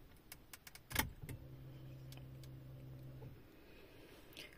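A key jangles and clicks into the ignition of a Renault Triber, followed by a low steady electrical hum for about two seconds as the ignition switches on, quiet and close inside the car.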